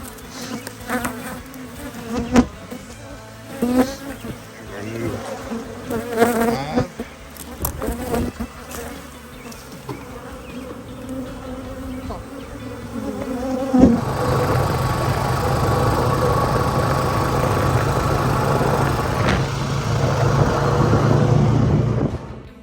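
Honey bees buzz around a beehive being split, a dense droning swarm that grows louder and more constant in the second half, with handling knocks and movement earlier.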